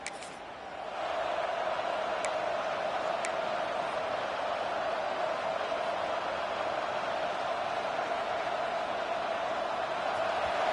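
Steady roar of a packed stadium crowd in an EA Sports College Football game, Texas A&M facing Georgia, a broad continuous wash of cheering that swells in after the first second and holds loud and even throughout.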